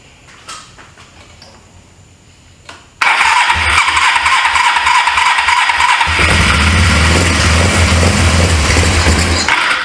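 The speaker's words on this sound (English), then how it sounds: "That's old motor don't sound too bad either. More gas in there." A 1980s Suzuki GS450A automatic motorcycle engine starts after a quiet moment and settles into a loud, close, continuous running note that deepens and rises as it is revved.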